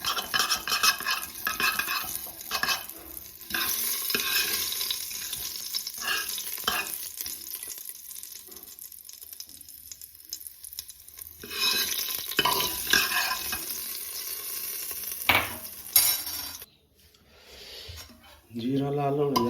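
Cumin seeds fry in hot oil in a home kitchen pan, giving a steady close hiss and sizzle with occasional stirring scrapes, while a voice talks at times over the cooking.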